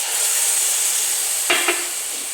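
Tomato paste goes into sautéed onions and tomatoes for a chicken gravy, giving a steady close sizzle with a couple of quick spoon scrapes near the end.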